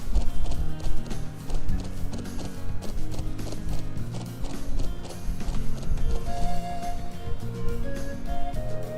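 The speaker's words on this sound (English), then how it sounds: "There's the horses." Horses in the Trails of Cold Steel video game clip-clop with steady hoofbeats and let out neighs over a game music bed, moderately loud and without talk.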